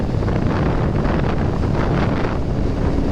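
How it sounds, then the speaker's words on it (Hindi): Steady, loud wind roars across the microphone while riding a Royal Enfield motorcycle on a tree-lined road, a constant buffeting rush with no pauses. "ये ठंडी हवा है पेड़ों की वजह से"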